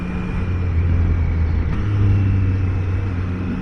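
A Triumph Trident 660 triple motorcycle rides through city traffic, its engine a steady low droning rumble with mild rises in pitch, heard continuously beneath wind noise with no talking.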